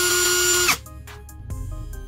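A ONEVAN 13mm brushless cordless electric drill whirs steadily at speed, then cuts off abruptly, followed by a few faint clicks and handling knocks.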